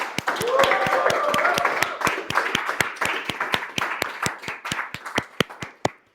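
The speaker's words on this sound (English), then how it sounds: "Let's hear a huge round of applause to all our table topic speakers" Meeting audience applauding its table topic speakers at a Bright Hearts club gathering: dense, steady clapping that gradually thins into a few sharp, separate claps before stopping.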